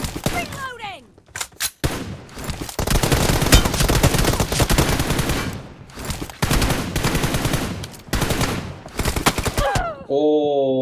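PUBG Mobile gunfire roars in long rapid automatic bursts, dense and loud, broken by short pauses, with game sound effects at the start and end.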